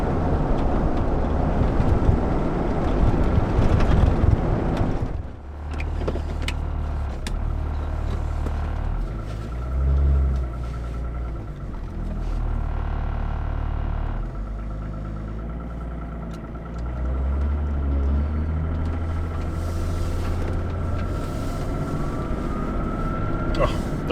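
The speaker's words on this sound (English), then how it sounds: "you do have to rev the nuts off these M51 diesels, so yeah, that's what you can hear thrashing away under the bonnet" A Range Rover P38 with an M51 diesel engine drones steadily as it drives, a low rumbling thrash that holds throughout with rises and dips as the revs change, and a voice talks over it.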